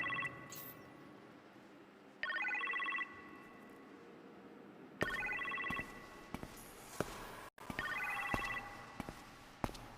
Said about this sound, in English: You appear to have a phone call in the kitchen